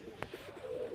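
A pigeon gives a short, soft coo up close on a rooftop, a brief throaty murmur in an otherwise quiet moment.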